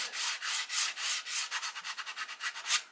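A 3D printed RC car body being sanded with a flat sanding tool, steady back-and-forth rasping strokes that speed up into quicker, shorter rubs, close and fairly loud with no voices.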